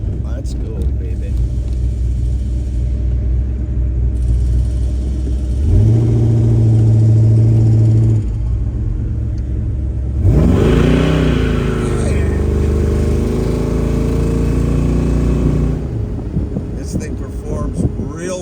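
A 1969 Chevrolet Chevelle V8 rumbles close by while driving, its engine revving up through the gears in loud rising pulls between steadier cruising stretches, with someone talking at times over it.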